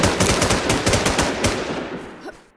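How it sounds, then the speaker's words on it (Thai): Rapid automatic gunfire from the shooter video game Infestation, a loud burst of closely spaced shots that fades out toward the end. "โอ้โหมันยิงเข้ามาในบ้าน"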